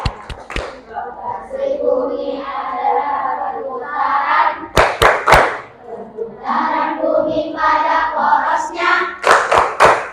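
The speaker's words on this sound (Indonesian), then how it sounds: "Tepuk rotasi bumi. 1, 2, 3." A group, likely a class of children with their teacher, performs the Tepuk rotasi bumi rhythmic clapping game: sharp bursts of loud clapping at the start, middle and end, with chanting voices in between.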